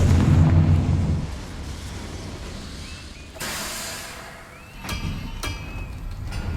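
A Confringo spell explodes in Hogwarts Legacy: a loud, booming blast at the start that fades into a rumbling tail, followed by further sharper bursts and crackles later on, with no talking.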